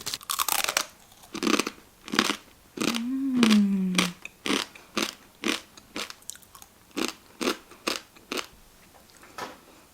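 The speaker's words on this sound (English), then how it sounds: "So I prepared the 부셔 먹는 ramen, and this is what it looks like. Yum! So let's take a bite." Korean crushed ramen snack, eaten dry: a dozen loud, close crunching bites and chews land in a steady rhythm, with a brief hum-like voiced sound of enjoyment early on.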